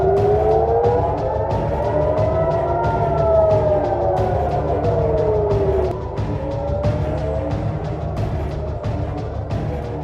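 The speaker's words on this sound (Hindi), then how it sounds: "हमलों के सायरन बजने लगे" Air raid sirens sound across Israel during an Iranian missile attack, a loud, sustained wail that rises and falls in long overlapping sweeps over a low rumbling background.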